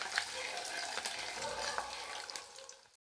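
Small onions sauté in a hot clay pot with a soft, steady sizzle and occasional stirring scrapes. The sound is fairly faint and cuts to silence at the very end.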